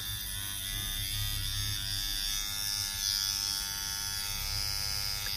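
Radical LUX tattoo pen machine running close up, a steady high electric motor whine with a constant buzzing hum that holds evenly throughout, with no voices.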